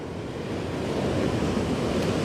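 Surf rolling in at St Michael's surfing beach, a dense continuous wash of breaking waves mixed with gusting wind noise on the microphone, loud and close, with no voices.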